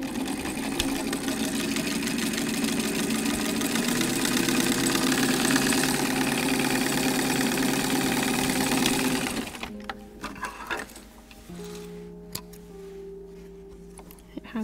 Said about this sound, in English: I'm just gonna be sewing the side seam of this sleeve.